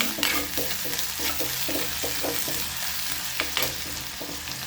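Spices and onion sautéing in a pan for a fish curry, a steady close sizzle with scraping stir strokes coming at an irregular rhythm, nobody talking.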